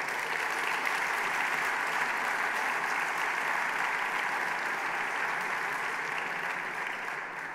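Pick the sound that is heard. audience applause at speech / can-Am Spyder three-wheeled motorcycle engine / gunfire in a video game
audience applause at speech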